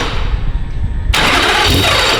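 A race car engine cranks briefly, then catches and bursts into a loud, harsh running roar that continues steadily to the end, heard close by.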